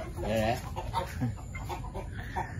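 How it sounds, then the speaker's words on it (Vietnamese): Chickens in a coop on a rural farm in Tay Ninh, Vietnam, clucking steadily in a busy, close cluster, with a voice talking over them. "đây chuồng gà đấy, thăm chuồng gà đi, thăm mấy bàn gà cái coi"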